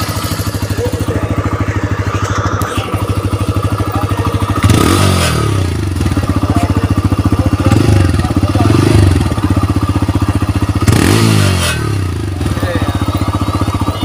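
A TVS Raider 125 motorcycle engine idles loudly and close, with a steady throbbing rumble, swelling into a couple of brief revs before settling back to idle.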